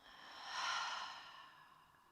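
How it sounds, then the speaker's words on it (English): One long, deep exhale during yoga breathing, a soft breathy whoosh close to the listener that swells and then fades over about two seconds. "Long exhale."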